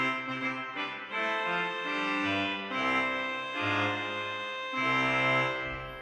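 A Rieger pipe organ sounds its reed stops, a trumpet stop with strong ground voices, in a full, brassy sequence of sustained chords that shift every second or so, loud and continuous with no talking.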